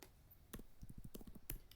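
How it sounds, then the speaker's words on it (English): Typing on a computer keyboard while working on an ICT exam item, a quiet burst of close key clicks with a few sharper taps, faint and alone. "I want to type"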